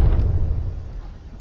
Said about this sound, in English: limited potential getting shoved back by the force of that explosion